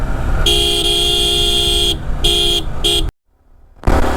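A motorbike horn honks in several bursts, one long blast then shorter ones, loud and close over engine rumble, on a Yamaha R15 ride on a hill road.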